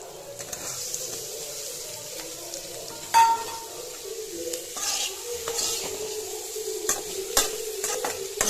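Cut paneer sizzles and is stirred in a pan with ginger and garlic while making a creamy, spicy paneer gravy, giving steady close frying hiss with scraping stir strokes and a few sharper clinks.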